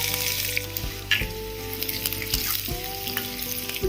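Finely chopped onion frying in hot coconut oil with mustard seeds and cumin, a loud close sizzle broken by several sharp stirring clanks of a utensil against the pan.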